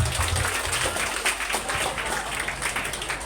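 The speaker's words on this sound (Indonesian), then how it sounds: "Ya, tepuk tangan bagi kita semua." A school assembly audience claps together at an Isra Mi'raj commemoration, steady broadband clapping filling the room at moderate level with a faint voice underneath.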